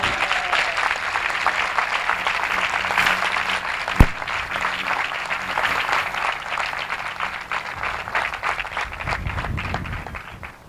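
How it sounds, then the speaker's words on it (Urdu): Vigorous applause from a church congregation during a sermon on the Holy Spirit, dense sustained clapping throughout with one sharp loud crack near the middle and a faint low rumble of movement toward the end. "زوردار تالیاں یسوع مسیح کے لیے."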